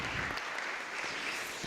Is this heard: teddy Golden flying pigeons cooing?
no